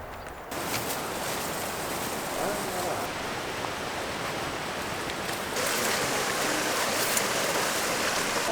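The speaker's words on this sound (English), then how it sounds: "we have made it to our second waterfall of the day" A jungle waterfall near Chiang Mai, Thailand, roars as a dense, constant hiss of falling water, close and steady, swelling slightly louder partway through, with no voices.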